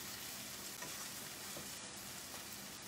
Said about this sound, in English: we have to fry this onion, you know, till it becomes a light brown